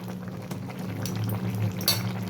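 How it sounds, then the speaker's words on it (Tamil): Crab masala gravy bubbling in a pot on a stove, a soft continuous simmer with faint pops and a light clink near the end, heard close with no talking. "பாருங்கள், தலை கொதிக்குது."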